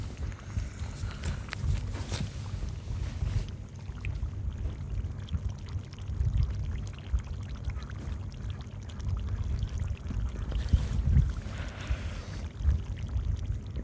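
Water streams into a pot of duck meat curry with coconut, a continuous splashing pour with low bubbling and sloshing that lasts throughout.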